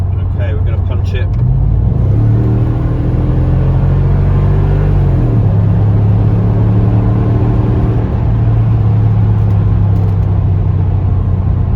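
A Mercedes ML55 AMG with a power loss and misfire accelerates hard on the road, its engine rumbling loud and close as rising revs sweep upward, drop at a gear change and climb again.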